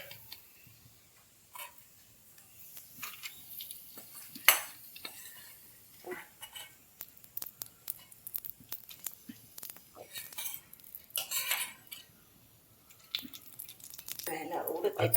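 Nutmeg being dry-roasted with spices in a pan for goda masala, giving light scattered clinks and taps of a spoon on metal at close range, with short scraping rattles that build toward the end.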